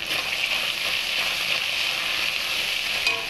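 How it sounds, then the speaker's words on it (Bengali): Ginger paste sizzles steadily in hot oil with a bright, continuous hiss and occasional small spatters, close and even throughout without any voices. "যখন দেখবে এরমভাবে আদা ছিটকাচ্ছে, একটু নুন দিয়ে দিবে, তাহলে আদাটা ছিটকাবে না।"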